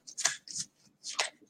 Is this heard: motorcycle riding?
no